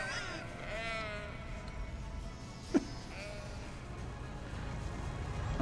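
Sheep bleat in the city-building game Cities: Skylines: several wavering bleats, the loudest in the first second, followed by fainter calls over a low ambient game background and a sharp click midway.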